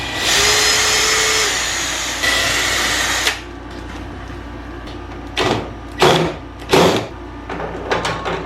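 Power tool whirring steadily for a few seconds as caster wheels are fastened to a rolling workbench, then several short, loud bursts of driving with pauses between, up close.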